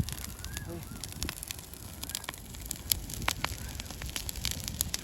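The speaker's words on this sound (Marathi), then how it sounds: "आग बघ ना कशी लागली त्याला" A company building burns, giving a steady roar of fire with scattered sharp crackles and pops, heard from a moderate distance amid faint background noise.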